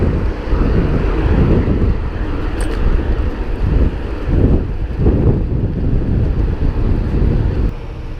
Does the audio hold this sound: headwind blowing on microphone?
yes